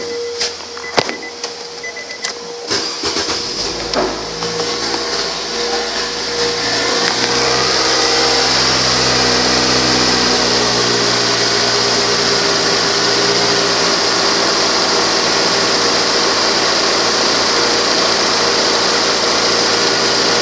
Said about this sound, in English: Start it up for you.